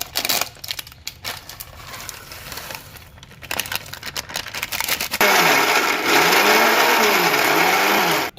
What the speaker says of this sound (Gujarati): તો આવી રીતે સિંગનો ને સવાણાનો ભૂકો કરી નાખો